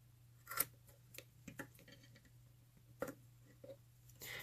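Small scissors trimming the wire ends of fused clapton vape coils: a few faint, crisp snips scattered across a quiet room hum, close to the mic, with no talk.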